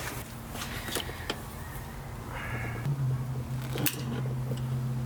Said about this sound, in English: Looks like my insulation's getting in the way. Let me cut it.